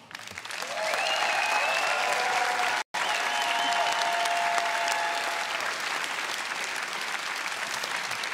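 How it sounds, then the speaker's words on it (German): A TV variety show studio audience bursts into loud, sustained applause for the magic trick's assistant, dense clapping filling the room with a brief cut partway through. "Und jeder Zaubertrick beginnt mit einem riesengroßen Applaus für den Hauptakteur,"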